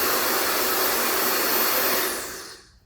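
A Melody Susie high-speed professional hair dryer running on its lowest power setting gives a steady, close, broadband airy whoosh that holds evenly, then fades out as it switches off near the end.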